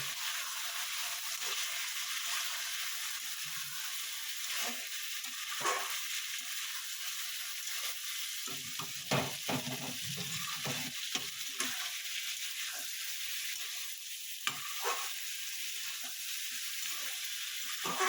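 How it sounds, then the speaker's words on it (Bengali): Spinach (palang) bora fritters simmer in fried masala in a pan, a constant soft sizzle with occasional gentle stirring scrapes throughout, with no talk. "আমার মশলাটা কষানো হয়ে গেছে, এবার আমি বড়াগুলো দিয়ে দেবো, দিয়ে আলতোভাবে নামিয়ে দেবো।"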